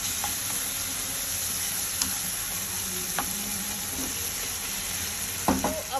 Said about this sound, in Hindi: अब हम इसको गलने का वेट करेंगे प्याज और टमाटर का।